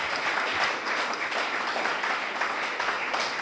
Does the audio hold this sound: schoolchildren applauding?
yes